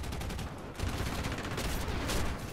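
Rapid gunfire bursts from a fighter plane's machine guns in War Thunder, a Re 2005 facing a Spitfire and an F-82, dense and continuous over roaring engine noise with no talking.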